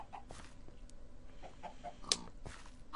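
Minecraft chickens in a chicken coop built on an old garden plot cluck in short, soft bursts, with scattered game clicks and a faint background hum.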